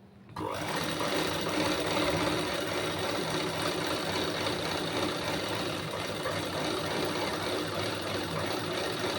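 Sewing machine stitching a blouse lining, starting after a brief pause and then running as a steady unbroken whir at close range, moderately quiet, with no voices.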